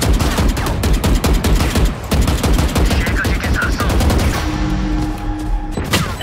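Rapid automatic gunfire from Valorant rattles out in loud, close, overlapping bursts for several seconds, followed by a steadier tonal hum and a final sharp shot.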